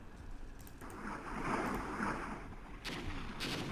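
Artillery fire in the war strategy game Armored Brigade, heard as a continuous rumbling roar of distant barrage, with a swell in the middle and sharper blasts near the end.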